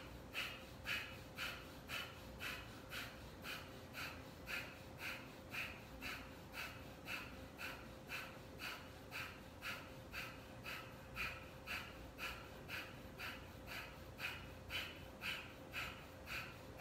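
Rhythmic, forceful breathing during a navel-pumping meditation exercise, steady quick breaths repeating evenly about once per second for the whole stretch, close and alone with no talk.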